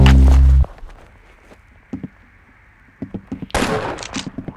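Rapid bursts of game gunfire from Roblox Arsenal, a loud blast at the start, then scattered shots and clicks, building to a dense volley of shots near the end.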